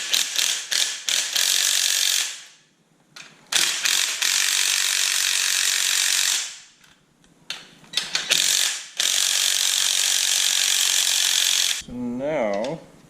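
Ratchet wrench clicking in long rapid bursts with short pauses, loosening bolts on BMR drag springs on a supercharged Ford Mustang; loud and close, with a brief whine near the end.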